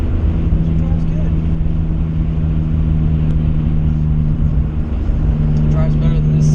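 A 17-year-old BMW M3 E46 convertible with 112,000 miles cruising, a steady loud engine drone and road rumble heard from inside the car, with people talking over it.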